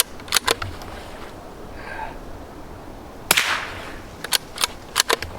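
A .22 bolt-action rifle fires at an outdoor pistol range: sharp, cracking shots in small clusters, with one louder, fuller report near the middle and more quick pops toward the end.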